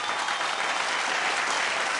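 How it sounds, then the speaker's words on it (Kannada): A stage show audience gives a burst of loud, dense applause that stays strong and even throughout, filling the hall with continuous clapping. "ಬರ್ಲಿ ಜೋರ ಚಪ್ಪಾಳೆ"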